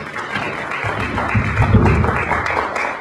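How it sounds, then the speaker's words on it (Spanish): Audience applause welcoming an engineer onto the stage at a finance seminar module, a steady wash of clapping from a room of people lasting a few seconds at moderate loudness. "vamos a dar inicio a este módulo y recibimos con un aplauso"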